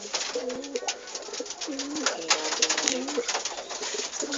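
Pigeons coo steadily in soft, repeated rolling phrases, several birds close together, over a bright hiss of background noise.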